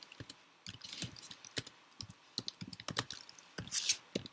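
Quick bursts of typing on a computer keyboard while writing code, close and crisp, with irregular clusters of key clicks and short pauses between them.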